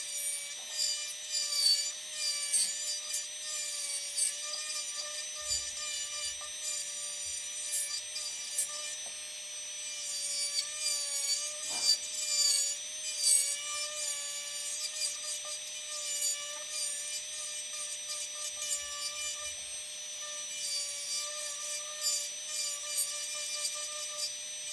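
Relief carving with hand tools into the background of a wood turning, a steady, close rubbing and rasping with a thin high whine running through it and occasional soft knocks, with no talk.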